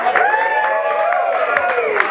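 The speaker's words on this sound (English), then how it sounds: "No, cheer. We want to cheer." A roomful of Triumph motorcycle riders and fans cheers and whoops, with bright shouted voices rising and falling over a steady crowd din and a few sharp claps.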